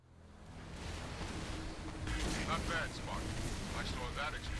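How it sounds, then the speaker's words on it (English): An explosion from orbit in the Halo 3 video game sets off a broad, rumbling burst that swells and lingers as a dense roar. It plays at moderate loudness within the game audio. "Explosion from orbit."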